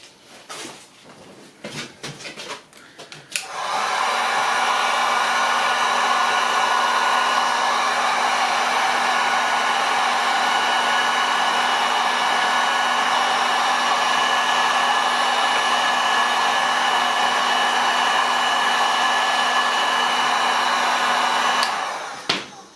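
A hair dryer heats a part on a Kawasaki VN750 motorcycle, blowing as one steady, close whir for about eighteen seconds before switching off. Some clatter and handling noises come before it.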